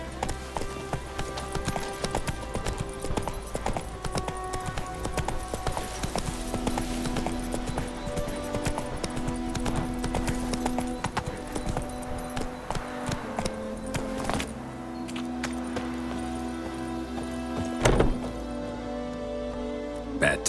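Hooves of a horse in The Witcher 3 clip-clop steadily and rhythmically throughout while riding, joined by game music and occasional character voices talking over it.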